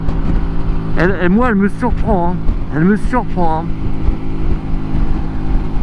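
Custom motorcycle of about 160 kg climbing uphill in a strong crosswind, its engine a steady low drone with wind buffeting the microphone, mostly under someone talking.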